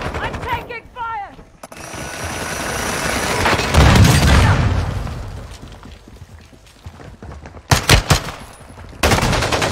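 Gunfire in the shooter game Call of Duty, with rapid bursts and single shots, rumbling booms and a sustained roar building in the middle, loud and close, with people talking between the shots.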